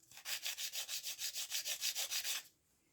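A file scrapes across the nut of a Breedlove Wildwood Concerto CE acoustic guitar in about fifteen steady, even back-and-forth strokes, close and fairly loud, then stops, leaving near silence for the last half second.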